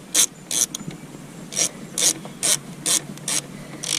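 Ratchet snugging up power steering fittings on a vehicle, about ten short rasping clicks in an even rhythm, close and alone.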